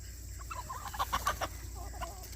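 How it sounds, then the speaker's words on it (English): Chickens and a rooster cluck in a run of short, close calls that rise and fall, with a busier burst midway, over a steady low background hum. "Stop it, Mr. Rooster"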